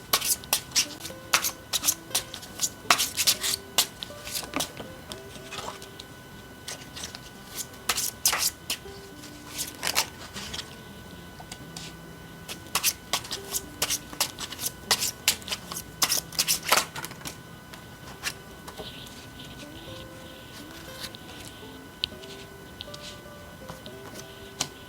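Tarot cards are shuffled and handled up close, with quick riffling bursts and light snapping taps that come in clusters and pause at times, over quiet background music.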